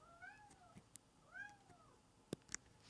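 A house cat meows twice, short rising-and-falling calls heard faintly in a quiet room, followed by a couple of sharp clicks.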